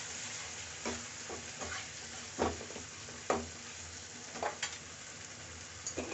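Spices for a cauliflower curry fry in hot oil in a pan, with a steady close sizzle and a spoon scraping and stirring in irregular strokes throughout.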